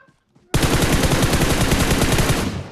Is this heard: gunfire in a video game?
yes